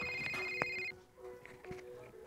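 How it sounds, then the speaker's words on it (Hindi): A phone rings inside a video game: a steady electronic ringtone plays for under a second, then cuts off, leaving quiet game sounds and faint footsteps. "फ़ोन कॉल कौन कर रहा है"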